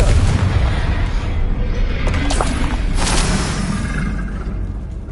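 Heavy booming blasts of a Confringo fire spell in the Hogwarts Legacy video game, a dense continuous barrage of loud explosive rumbles with sharp bursts around the middle, with faint voice underneath.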